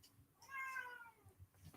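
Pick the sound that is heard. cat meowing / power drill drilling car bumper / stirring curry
cat meowing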